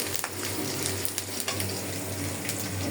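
Frying in a wok while tempering blended radish greens, a steady close sizzle running throughout with faint scraping and stirring clicks, no talk.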